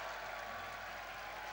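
Football supporters in a stadium applaud, a steady broadband patter of clapping spread across the crowd and held at an even level throughout.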